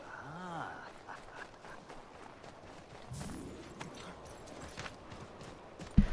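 Horse hoofbeats clip-clop steadily at a walking pace amid soft ambience in the game Assassin's Creed III Remastered, fairly quiet, ending with a sharp click.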